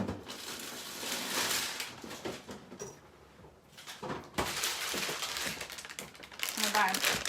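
A big plastic bag of bacon crinkles and crumples up close in a home kitchen, with bursts of rustling handling separated by a short quiet pause, and a voice talking over parts of it.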